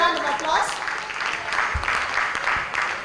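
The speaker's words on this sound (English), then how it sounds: "Please can we give her a round of applause?" An audience claps at a training event, a moderate patter of applause that runs under a speaking voice and a few audible shouts from the crowd.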